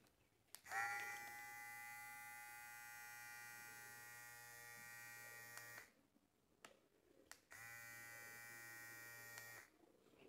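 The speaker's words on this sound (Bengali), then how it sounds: "দেখতে পাচ্ছেন ট্রিমারটি কিন্তু যথেষ্ট স্পিডে ঘুরতেছে" A rechargeable electric hair trimmer buzzes at a steady high-pitched whine for about five seconds, switches off, then runs again for two more seconds, close and clear with soft clicks between.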